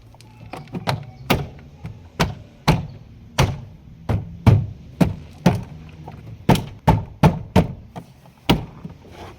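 Repeated knocks as a Ford Figo door trim panel is tapped back into place: about seventeen sharp, close thuds in an uneven rhythm, loud and alone with no talking.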